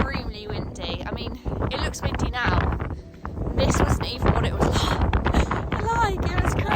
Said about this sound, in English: but it is extremely windy. I mean, it looks windy now.